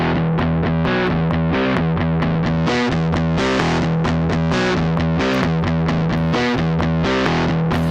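A continuously played electric guitar through a SoundToys Decapitator tape-style saturation plugin, warm and saturated, steady and loud with a slightly chorused sheen and no pauses.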